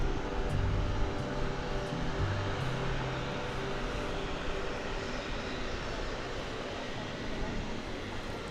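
Airplanes at Dallas-Fort Worth International Airport at night, a steady broad engine roar from aircraft that holds throughout, fairly loud and continuous with a constant outdoor rumble beneath.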